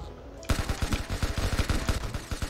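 Rapid SMG fire in the Roblox game Arsenal, a loud fast burst of evenly spaced shots starting abruptly and running steadily to the end.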